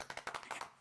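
A short burst of quick, faint handclaps, about eight sharp claps in under a second, heard alone without talk.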